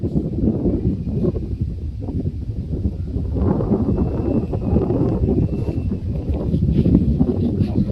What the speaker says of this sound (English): Yeah, that's a gust right there.